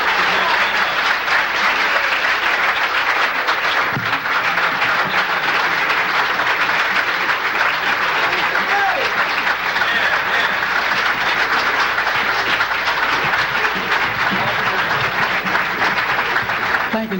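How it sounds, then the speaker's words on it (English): A live concert crowd applauds a doo-wop group in Philadelphia, 1986, in steady, dense clapping that carries at full volume from start to finish. "Let's give them a nice round of applause."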